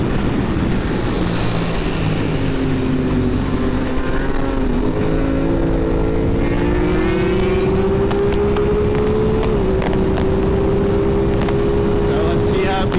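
A 2021 Aprilia Tuono 660 motorcycle is ridden at speed, its engine droning loudly and steadily, with the pitch climbing gradually through the gears under strong wind rush.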